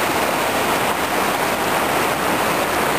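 The Jequetepeque river flows past Chilete in a dense, steady rush of water, close and loud, an even broadband wash with no pauses and no voices.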